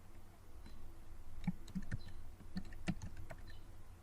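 Keys clicking on a computer keyboard as a short word is typed, a quick run of light, close taps with brief pauses, no voices.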